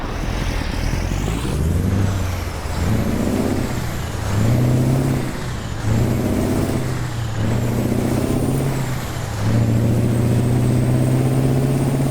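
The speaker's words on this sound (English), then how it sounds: "Idle engine sound is awesome." A heavy Mack Superliner truck engine idles in American Truck Simulator with a deep steady rumble, its low throb rising and falling in gentle cycles, loud and close.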